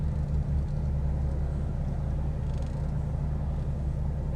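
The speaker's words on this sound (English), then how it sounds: "I fucking hate all these goddamn cars" Cars travel along a busy road, heard as a continuous low, close rumble of traffic, with no talking.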